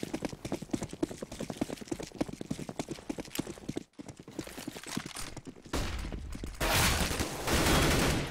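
Automatic rifle spray fired down the middle of de_cache in a Counter-Strike match, heard as rapid repeated shots mixed with footsteps and game noise, loud and busy, with a denser burst near the end.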